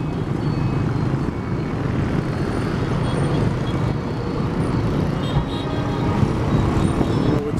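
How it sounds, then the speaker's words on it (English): Busy city street traffic in Ho Chi Minh City: a loud, dense, continuous roar of engines and tyres close by, with steady rumble and occasional higher whines from passing vehicles. "So we got to get across that traffic right there."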